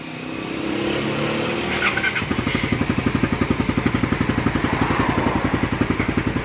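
A motorcycle engine starts and settles into a rapid, steady idle thrum, close by and loud.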